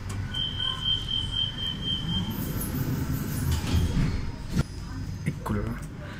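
A Metro B train arriving at Garbatella station rumbles with a sustained high metallic squeal, then clanks and rattles as it slows, voices murmuring in the background.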